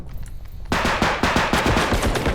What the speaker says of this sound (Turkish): Oo silahla. Taramalı silah.